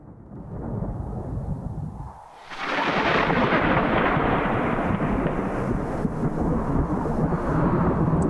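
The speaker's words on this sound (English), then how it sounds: "Thunder." A thunder sound effect for a staged radio drama: a low rumble that swells into a loud, sustained broadband roll after a brief dip, continuing heavily to the end with no voices.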